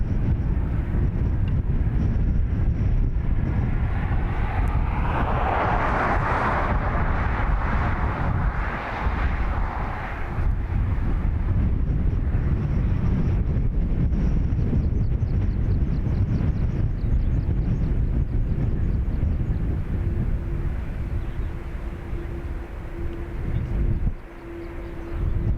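A Ryanair jet takes off from runway 28 right at Dublin Airport with a loud, sustained roar that swells and holds throughout, an engine whine showing briefly near the start.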